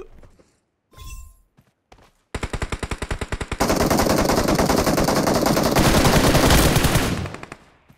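Gunfire in the mobile battle royale game PUBG Mobile: a loud burst of rapid automatic shots, then a dense sustained stream of fire for several seconds after a few scattered earlier cracks, with no voices.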